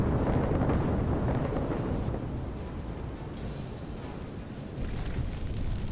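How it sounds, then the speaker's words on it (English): A ship exploding off the English coast in the submarine game Uboat War, a dense roaring rumble of blasts that swells loud at first, eases, then surges again. "So it's still exploding."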